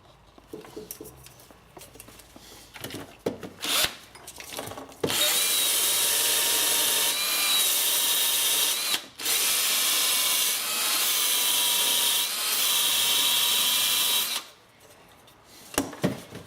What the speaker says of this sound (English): I'll use a wire brush here for a while, see if we can polish it up a bit.